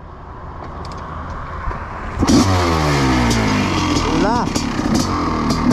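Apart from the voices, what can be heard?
Honda 500 CR supermoto motorcycle engine starting and revving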